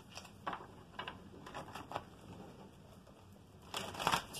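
Tarot cards being shuffled three times during a reading, a soft papery riffling and crinkling in short bursts, the last burst louder and busier as cards spill out, with no talking.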